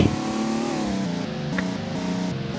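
An FD sports car engine in the Roblox game revs loudly up close. A steady harmonic drone rises and dips through several throttle swells, with a brief sharp blip midway and no talk over it.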